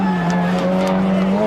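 Citroën rallycross cars, a small AX and a larger BX, race and brake at a 1993 French championship round, with a loud, steady engine drone and tire squeal close by, under excited French commentary.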